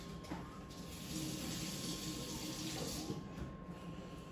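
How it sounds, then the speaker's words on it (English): Tap water runs steadily into a sink while a 1968 silver mint-set coin is rinsed, a continuous close splashing hiss with slight changes in flow. "let me go rinse this off real quick and see what happens"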